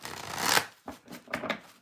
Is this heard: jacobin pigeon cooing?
no